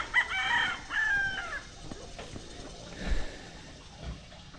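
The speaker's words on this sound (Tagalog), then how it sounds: "Dito yung mga manok ng papa ko." Farmyard chickens and a rooster at a rural home in the Philippines: a near rooster crows twice in quick succession, then softer clucks and scratchy low calls follow amid quiet background noise.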